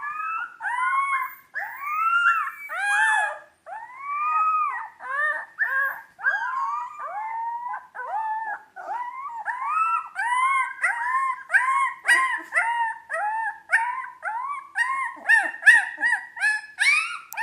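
Dire wolf pups howl in a high, wavering chorus of overlapping rising and falling cries, repeated in close, loud bursts with brief gaps, with no voices over them.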